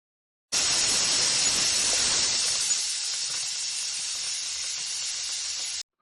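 A loud, continuous hiss of steam bursts out suddenly from a pressure cooker whistle, holds steady for several seconds, then cuts off abruptly.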